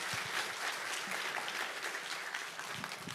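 A congregation at a Friday evening church service applauds, a fairly quiet but steady wash of clapping that lasts around three seconds.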